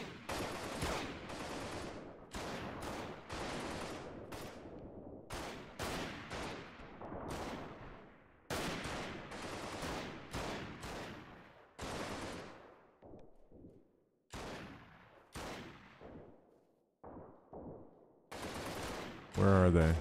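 Gunfire in the war video game Freeman: Guerrilla Warfare during a large troop battle: repeated bursts of rapid automatic fire and single shots, loud and close, separated by brief pauses, with some trailing off into quieter distant shots.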